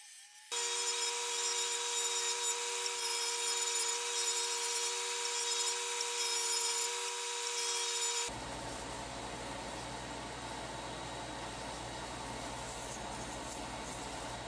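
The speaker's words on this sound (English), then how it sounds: "I rough cut them out on the bandsaw, then clean up these cuts with the bench sander" A bandsaw and a bench sander shape wooden blanks for a rat-shaped wakebait fishing lure, the machines making a loud steady whine and then a rougher abrasive grinding, close by with no speech.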